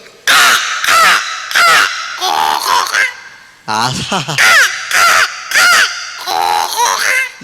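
A mimicry artist on a comedy stage show imitates a crow with his voice, giving about nine loud, harsh caws in quick bursts separated by short pauses.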